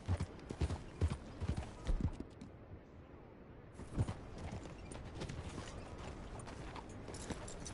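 Horse hooves clip-clop in a steady rhythm in Red Dead Redemption, with faint mechanical clicks and ratcheting underneath in the game's soundscape.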